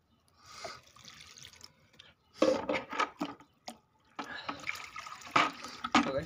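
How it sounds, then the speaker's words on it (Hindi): Water splashes and trickles in short bursts onto a curry leaf plant, pouring and pausing, close by and fairly soft, with no talking. "अब डालते हैं मीठे नीम के पौधे में पानी।"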